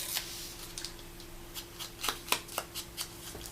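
Printed paper butterfly being torn by hand for a junk journal bookmark tag, a series of short crisp ripping bursts that quicken toward the end, close and fairly quiet.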